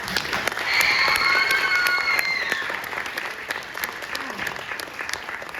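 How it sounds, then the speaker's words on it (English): A concert audience applauds after a band performance: dense, sustained clapping fills the room, loudest early with a thin whistle-like tone riding over it, then eases slightly while continuing to the end. "Let's go round of applause."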